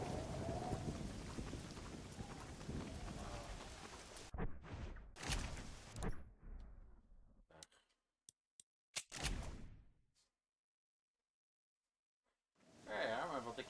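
Heavy rain and a thunderstorm in Red Dead Redemption: a dense downpour with rumbling thunder, then broken bursts and silence before the storm returns near the end.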